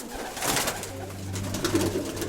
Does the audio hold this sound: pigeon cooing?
yes